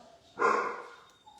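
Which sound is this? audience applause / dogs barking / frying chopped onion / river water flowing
dogs barking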